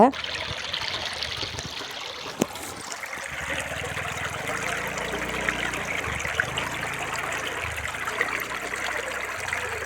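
Steady running water trickles and gurgles through a village irrigation channel, close by, with faint background noise and a brief knock early on.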